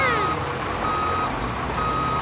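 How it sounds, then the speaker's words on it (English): Cartoon fire truck reversing beeps, a loud close electronic tone repeating in three evenly spaced beeps over a low engine rumble and background noise. "Pea Pea brought a fire truck."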